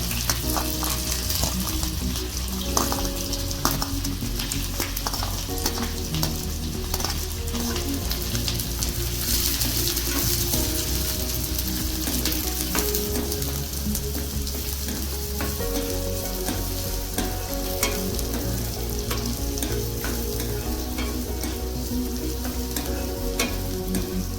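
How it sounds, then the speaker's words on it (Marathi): Food for a cheese corn sandwich fries in a pan, a loud continuous close sizzle with stirring and scraping running throughout, no voices over it, and a steady tonal hum underneath. "मग त्याला बरोबर शिजू देऊया, फ्राय होऊ देऊया."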